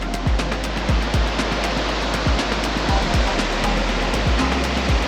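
River water rushes steadily as it pours down over stones beneath a small footbridge, a loud, unbroken wash of noise with occasional low thumps and no voices.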